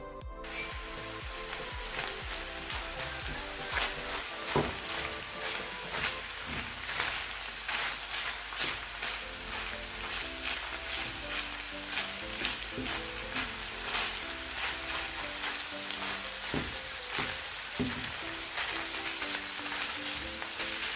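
Onion and garlic frying in a pan for Turkish pide with minced meat, a steady close crackling sizzle with scattered pops and stirring scrapes, continuous throughout with no talking.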